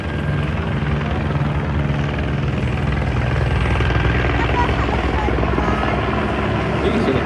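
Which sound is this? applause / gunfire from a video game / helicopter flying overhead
helicopter flying overhead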